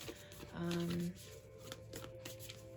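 Cards shuffled by hand to draw a moon card, a brief burst of soft riffling and shuffling close by, very quiet and mixed in with speech.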